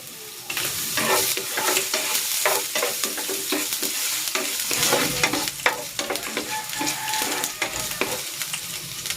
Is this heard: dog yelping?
no